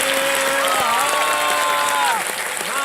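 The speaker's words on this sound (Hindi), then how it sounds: "एक बार फिर तालियों के साथ आपको स्वागत।" A studio audience on the Hindi quiz show Kaun Banega Crorepati applauds warmly, a steady wash of clapping and light cheering that runs throughout, with a voice faintly heard over it.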